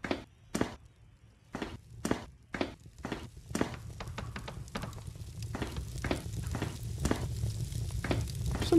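Footsteps in the horror video game Close Your Eyes, a series of distinct thudding steps at a steady walking pace, sparse and loud at first, then quicker and overlapping against a rising background hiss.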